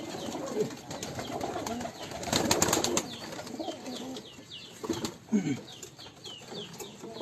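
Pigeons coo softly nearby while wings flap and flutter in short bursts, with other birds calling faintly in the background.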